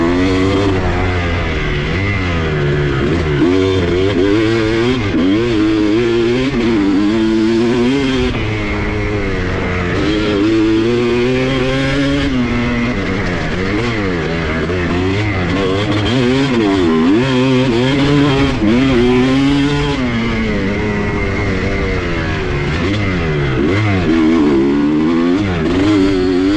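2007 Kawasaki KX250 dirt bike, ridden on a turn track after sitting unused for two years, revs loud and close for the whole stretch, its engine pitch rising and falling constantly with throttle changes and no speech over it.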